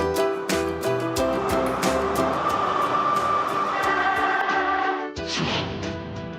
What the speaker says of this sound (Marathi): मुंबईत धावणार भुयारी मेट्रो।